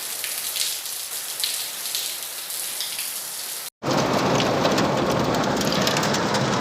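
Heavy rain with hail pelting down outdoors, a dense, loud wash of hiss and patter that cuts out briefly, then returns even heavier.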